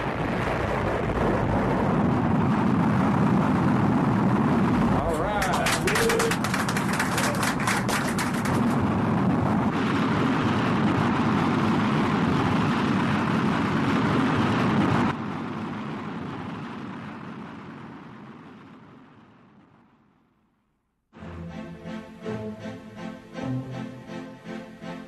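Gravity Probe B lifts off from Vandenberg Air Force Base in California with a loud, continuous roaring rumble that holds steady, then fades away and gives way to a different noisy passage near the end.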